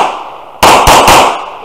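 Infinity pistol fired at a USPSA shooting match, three sharp, loud shots in quick succession close by, each with a short ringing decay.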